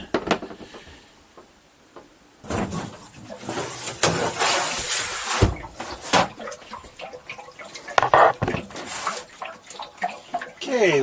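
A camper's hot water tank drains during winterizing, giving a bursty gurgling, sloshing water sound that comes close and fairly loud in irregular surges after a quiet opening.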